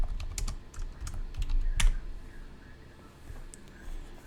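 A computer keyboard being typed on up close: quick bursts of crisp key clicks, one sharper keystroke, then a lull and a few scattered taps.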